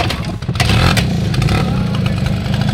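A Yamaha Chappy moped's small engine, just after carburettor cleaning and adjustment, starts with a sputter and settles into a loud, close, continuous buzzing idle.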